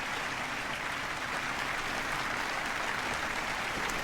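Steady, dense applause from a crowd gathered in a chapel in a Devil May Cry trailer, a continuous even clatter of clapping with no distinct voices.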